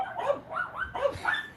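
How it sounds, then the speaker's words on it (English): Dogs bark and yip in a quick run of four or five short, bright barks with a whimpering edge, fairly close and clear, with no talk over them. "Yeah, I don't mind when dogs bark."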